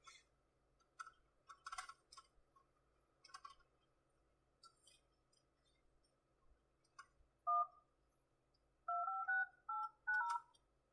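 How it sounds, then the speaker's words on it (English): A snow-covered cell phone plays a scattering of faint, clipped keypad beeps spread across several seconds, then a closer run of distinct touch-tone dialing tones near the end, with no one speaking. "My phone, I got it snow covered, and now it's just completely covered in snow, and it's dialing the wrong number"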